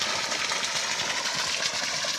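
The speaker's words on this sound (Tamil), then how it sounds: "இதில் போர் மோட்டர் ஓடிக்கிருக்கு" A borewell motor on farmland at Chinnalapatti in Dindigul district runs with a steady, close mechanical hum and buzz that continues evenly throughout.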